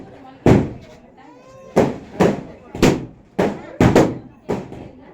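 Birthday firecrackers burst outdoors in a quick series of six or seven loud, sharp bangs, each fading into a short rumble, with voices heard faintly between the blasts.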